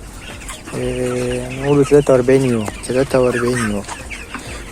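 A broiler flock of Sasso chickens, about 43 days old, clucking steadily and close by while someone speaks Arabic over the birds.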